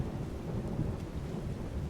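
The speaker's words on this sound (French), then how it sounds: "Parce qu'il pleut." Steady rain with low rolling thunder rumbling underneath, set in the Skyrim video game during a storm on a small island in the Falskaar mod. The wash is constant and moderately loud, with no voices.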